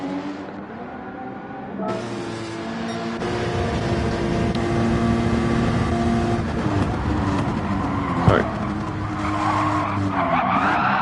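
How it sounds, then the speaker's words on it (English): Race car in a racing video game spinning out, with a sustained engine roar and tyre skid that rises and shifts over several seconds, loud and continuous with no talk over it. "Oh, Nightbreeze just spun it"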